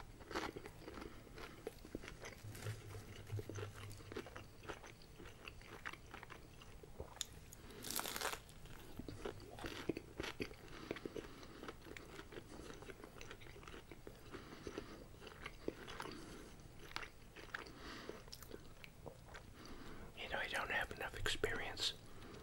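Crunchy bites and chewing of McDonald's Spicy Chicken McNuggets, close and intimate, with repeated crisp crunches and soft mouth sounds over quiet whispered speech throughout.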